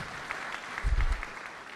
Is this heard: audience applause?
yes